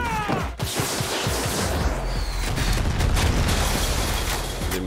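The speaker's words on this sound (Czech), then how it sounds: "Masivní exploze, tam to fakt bylo over the top" A massive explosion in Far Cry 6 bursts open and rolls into a dense, loud roar of booms and crackling gunfire that stays thick and rumbling for several seconds.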